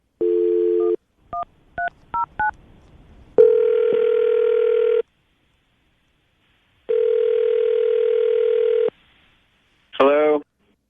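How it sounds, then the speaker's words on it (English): A telephone call being placed on a radio show: a dial tone, a quick run of keypad tones, then two long ringback tones, followed by a brief chirping connection sound, all clean and loud with no talk. "Katie, we're going to get him on the phone right now, see if we can get an answer as to why he hasn't called you back"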